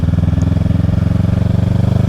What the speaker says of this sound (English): I'm sure the exhaust noise isn't great coming from the mic that I have in my helmet